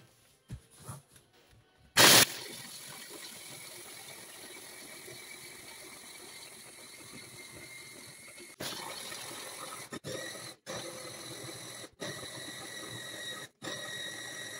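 An electric mixer whirs steadily through hazelnut praline, one loud whirring run after a sharp start, then shorter bursts cut by brief stops near the end.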